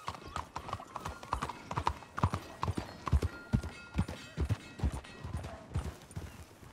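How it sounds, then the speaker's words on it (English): Horse hooves clip-clop at a walking pace in the Western video game Red Dead Redemption 2, a close, uneven run of distinct hoof strikes over a quiet background. "Hitch the horse. Don't chew your reins off, Missy."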